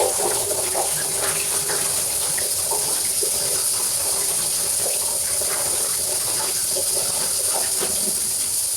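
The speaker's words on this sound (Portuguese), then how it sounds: "tá aqui debaixo d'água" Food rinsing under a running kitchen tap during weekly meal prep, a steady, fairly loud rushing hiss of water that continues evenly throughout with no voices.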